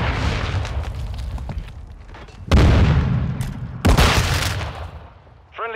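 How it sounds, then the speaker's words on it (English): A flash grenade detonates in Call of Duty: Modern Warfare II, two loud close bangs a second or so apart, each with a ringing decay, over steady background game noise. "Throwing flash grenade."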